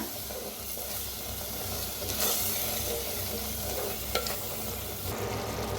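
Masala for a spicy village chicken curry cooks in a clay pot, giving a quiet, steady frying hiss with soft stirring scrapes and one small clack, heard without any talk.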